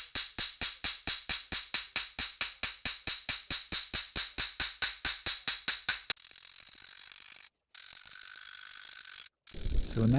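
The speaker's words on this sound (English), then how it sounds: "So, and that's a jeweler's hammer, and I'm just going through and peening everything." A jeweler's hammer peens the metal of a folk art hand plane in a fast, even run of sharp, ringing taps for about six seconds. A quieter hum and some shuffling follow.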